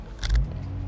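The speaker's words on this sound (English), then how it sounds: "let's put our foot on the brake, start the car up" A 2026 BMW 840i xDrive Convertible engine starts with a short, loud crank-and-catch burst, then settles into a steady, low idle hum close by.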